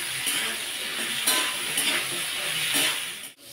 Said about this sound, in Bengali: এবার গাজরটা সিমটা দিয়ে দেবো। এগুলো একটু ভেজে নেব।